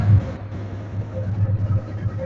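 A modified 160cc used motorbike, Dhaka Metro registered, idles with a steady low throbbing rumble close by, with slight uneven pulses and no speech over it.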